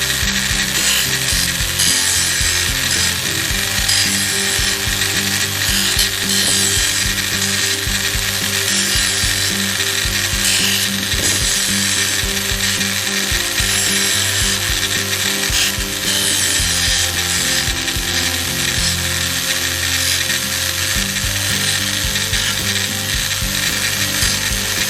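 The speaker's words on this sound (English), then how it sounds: "If you have a nylon vitrified deburring wheel, just soften up the corners a little bit." A nylon vitrified deburring wheel grinds steadily against sheet metal corners, giving a loud, continuous abrasive whir with fine rapid rasping textures and no pauses.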